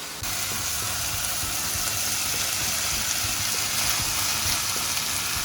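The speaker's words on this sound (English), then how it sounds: "So I'm going to add this in to my pan now" Oats tipped into a hot pan for vegetable oats upma give a steady, close sizzling hiss that holds evenly from start to finish with no talking.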